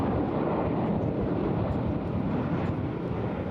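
Red Arrows jets flying the 5-4 split at the 2024 Eastbourne International Airshow, a steady, loud broadband jet roar with wind rumble that holds evenly without a break.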